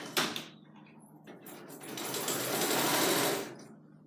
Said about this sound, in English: let's get these darts sewn